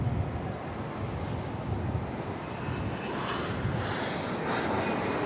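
A 20th century airliner at DFW Airport sends out a steady, loud jet engine roar that holds for the whole stretch at a middling distance, with some wind noise and no voices.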